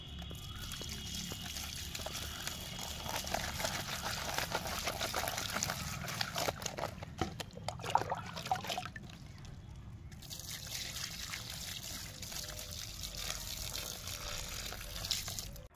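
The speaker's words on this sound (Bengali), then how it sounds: "এবারে ভালো করে ধুয়ে পরিষ্কার করে নেব" Fresh yellow koi fish caught from a pond being washed clean in water, with steady trickling and splashing of running water as the fish are rinsed, close up and continuous.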